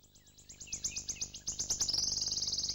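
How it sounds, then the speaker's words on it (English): A wood warbler sings loud, high, repeated notes that speed up into a rapid, shivering trill. It is close and clear, with no voices. "As his loud song accelerates into an excited trill"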